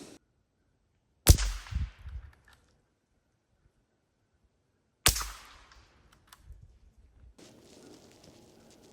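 Two sharp suppressed .22 rifle shots a few seconds apart, each a crisp loud crack with a brief ringing decay and faint handling noise afterward, fired outdoors during a comparison of quiet rifles including a De Lisle Commando Carbine.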